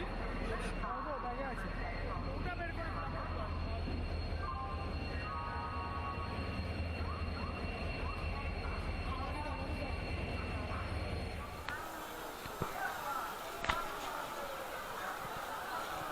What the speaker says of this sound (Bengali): হাওড়া থেকে দীঘা যাওয়া তাম্রলিপ্ত এক্সপ্রেস 20 নম্বর প্ল্যাটফর্মে চলে এলো।